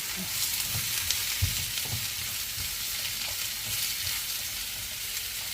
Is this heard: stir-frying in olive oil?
yes